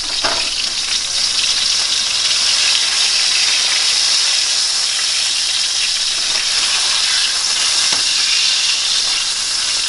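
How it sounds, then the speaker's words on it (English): A burger patty brushed with truffle oil sizzles and fries steadily in a hot pan, a loud, continuous hiss that holds even throughout with no talking over it. "So the burger is now cooking."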